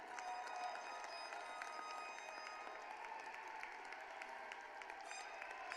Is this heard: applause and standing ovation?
yes